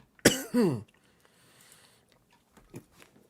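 A close, sharp cough followed immediately by a second rougher one, then quiet room noise with a few faint clicks.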